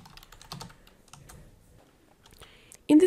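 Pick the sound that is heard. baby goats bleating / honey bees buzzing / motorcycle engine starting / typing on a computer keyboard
typing on a computer keyboard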